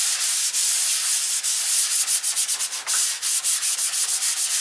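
Open-handed sanding of a control line P-51B model airplane, close, loud, rhythmic rasping strokes that start as long sweeps and then turn into quicker, shorter rubs.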